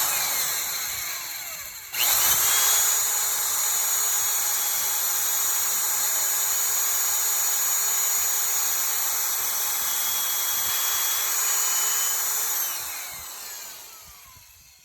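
A power drill fitted with a larger left-hand bit bores out a broken 6mm intake manifold bolt on a 2011 Ford Edge 3.5L engine, a loud steady whine starting abruptly and running continuously for about ten seconds before winding down.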